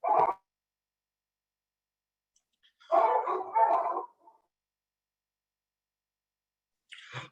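Dogs bark nearby in short bursts: one sharp bark, a cluster of several rapid barks after a pause, then a final bark trailing off at the end, with silence between.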